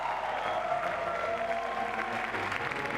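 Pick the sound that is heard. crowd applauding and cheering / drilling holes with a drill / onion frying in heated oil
crowd applauding and cheering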